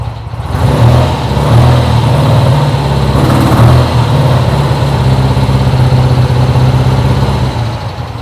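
A motorcycle engine runs steadily on a cold day, a loud, close, continuous low rumble with a few slight swells in revs, with no talk over it.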